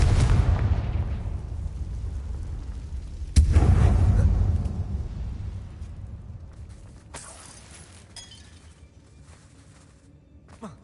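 Confringo blasting spell from the video game Hogwarts Legacy, cast inside an abandoned mine: a loud booming blast opens, then a second heavy explosion about three seconds later, each trailing off into a long rumbling decay with no talk.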